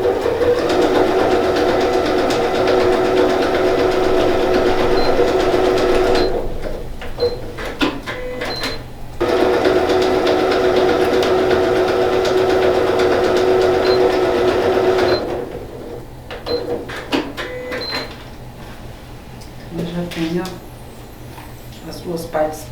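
A domestic sewing machine runs a short stitch line on a men's patchwork toiletry bag, its steady motor whir holding through two long runs of several seconds each, close and fairly loud, with a pause and some handling noise between.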